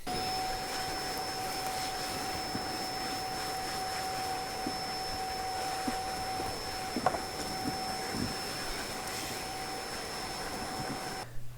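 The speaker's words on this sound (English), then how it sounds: "we'll get the hoover, give that a bit of a clean up" A hoover cleans a model railway baseboard laid with cork, droning steadily and closely for the whole stretch with a constant whine, with faint knocks as the nozzle moves across the board.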